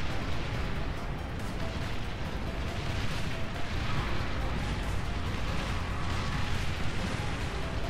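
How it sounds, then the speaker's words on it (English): Paralyzing mortar fire in a strategy video game, a dense, continuous rumble of overlapping blasts and booms with no pauses. "here comes some of their paralyzing mortars"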